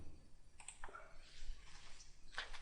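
Computer mouse clicks while drafting in AutoCAD, a few faint, sharp, separate clicks spread across a quiet background.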